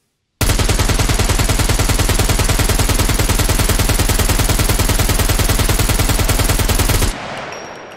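A rifle fires full auto in the survival game Scum, a loud, unbroken, evenly spaced stream of shots lasting nearly seven seconds before stopping abruptly into a faint tail, with no talk.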